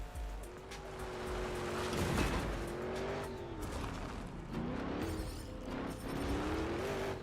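A car spins through a donut in a video game, its engine note rising and falling steadily across several seconds, fairly faint, alone with no talk.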